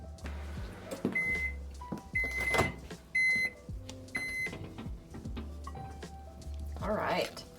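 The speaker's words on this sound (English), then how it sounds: "I am going to pop it back in the microwave for probably about 30 seconds" A microwave oven hums steadily while heating mozzarella and cream cheese, its low drone running through the clip beneath a person talking, with brief beeps and a few clicks and knocks along the way.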